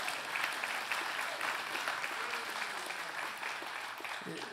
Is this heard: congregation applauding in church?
yes